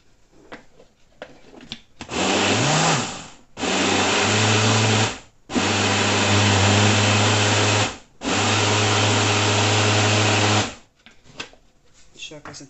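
Blender whirring through cornmeal cake batter (bolo de fubá), running in four loud, steady bursts separated by short pauses, with soft talking before and after.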